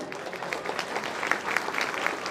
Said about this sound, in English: giving big round of applause